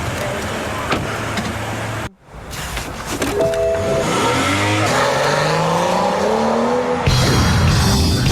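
A car engine revs hard and rises in pitch as the car accelerates away, loud and close, after a brief drop in the surrounding noise.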